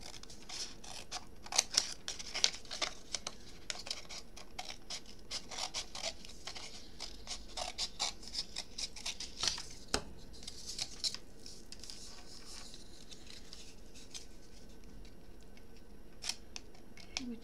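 Scissors snip repeatedly through a cardboard book box, sharp close cuts in quick irregular bursts with short pauses, quiet room around them.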